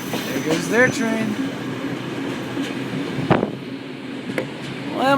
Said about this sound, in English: There goes their train.